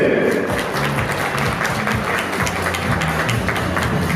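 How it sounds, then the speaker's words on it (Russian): Steady, dense clapping from a crowd, continuous and fairly loud throughout with no pauses. "Аплодисменты!"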